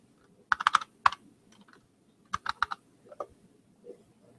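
Someone types on a computer keyboard in uneven bursts of crisp clicks with pauses between, close and fairly quiet, with no speech.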